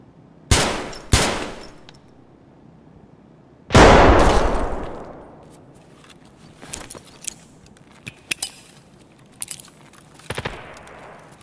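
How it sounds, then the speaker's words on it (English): Grenade blast in the video game AquaFPS: a loud boom with a long decaying rumble, following a couple of sharp earlier gunshot cracks and trailed by scattered clicks and smaller pops. "Oh, that's a nade."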